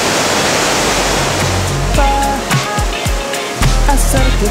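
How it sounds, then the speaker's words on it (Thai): A waterfall in Chiang Mai, Thailand, pours strongly in a loud, close, unbroken rush of white noise, with a few brief tonal sounds rising over it partway through. "ก็เรียกว่าเป็นหนึ่งในน้ำตกนะครับผมที่เชียงใหม่"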